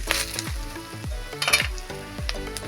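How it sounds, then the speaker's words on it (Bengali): Vegetables fry in oil in a pan with turmeric powder, a close sizzle broken by rhythmic stirring scrapes roughly every half second. "এটা ভালো করে ভেজে নিই"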